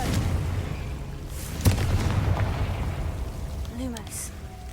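Confringo blasting spells going off in Hogwarts Legacy, a sharp, loud blast followed by a rumbling boom that fades, with a fizzing spell effect later in the clip.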